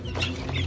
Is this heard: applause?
no